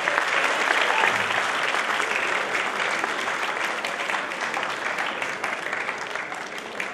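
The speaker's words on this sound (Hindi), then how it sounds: "जोरदार तालियां बजाकर आप अतिथियों का स्वागत करें, अभिनंदन करें" Sustained, dense applause from an audience welcoming guests onto the stage at a governor's public event on fighting drug abuse, loud and steady throughout with a slight taper near the end.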